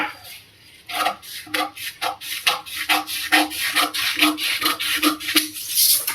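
Scissors snip through blouse fabric laid over a paper pattern on a tabletop, a series of close, quiet rasping cuts in an irregular rhythm, with no voice over them.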